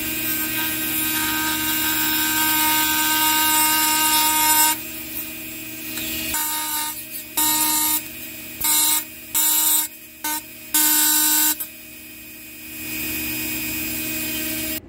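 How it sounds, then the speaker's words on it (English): A Dremel tool with a cutting disc grinds down small tips with a loud, steady high whine. It then breaks into short on-off bursts as the disc is touched to the work and lifted away. "I'm going to try a cutting disc for a Dremel tool"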